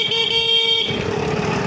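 Vehicle horn honking on a town street, a loud steady tonal blare for the first second that cuts off into broadband traffic noise.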